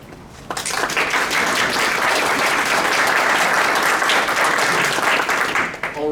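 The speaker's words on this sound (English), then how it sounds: "let's give all 9 candidates another round of applause" Vigorous applause for nine judicial candidates at a criminal defense lawyers' forum swells abruptly from a quiet start, stays loud and dense for several seconds, then tapers off near the end.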